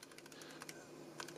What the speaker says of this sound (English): And I am typing behind the camera